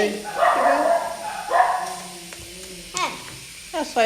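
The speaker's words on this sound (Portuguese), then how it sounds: "É só isso que eles fazem, né? Latir sem parar." Several dogs bark in short bursts during a children's slime session at home, yips and barks mixing with someone talking over them, loud near the start and again in brief bursts near the end.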